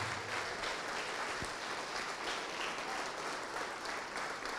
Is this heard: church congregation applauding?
yes